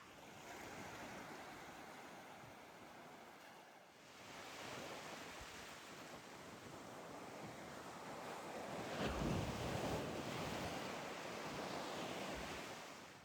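Ocean surf breaking on the beach at Arraial do Cabo, Brazil, a steady broadband wash with wind buffeting the microphone and a louder wave surging in near the end, no voices.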